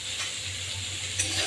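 Kohlrabi and potato curry is stirred in a pan with salt and turmeric, a brief close sizzle with soft scraping under it and a small clink near the end.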